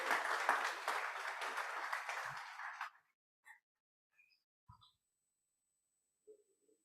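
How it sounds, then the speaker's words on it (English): A meeting audience applauds a speaker at a Lagos technical and business meeting: a dense burst of clapping for about three seconds, then it stops, leaving near silence with a few faint, scattered small noises. "if you're going to clap"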